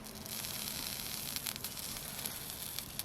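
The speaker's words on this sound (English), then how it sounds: "I like that sizzle." Food sizzling in a pan while cooking, a steady hiss of frying that runs unbroken and fairly faint throughout.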